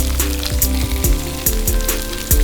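Bacon strips sizzle steadily on a Blackstone griddle held flat under a bacon press, a dense close crackle with periodic sharper pops and scraping accents, no voices.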